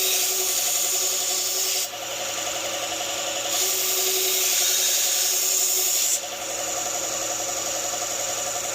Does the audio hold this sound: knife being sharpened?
yes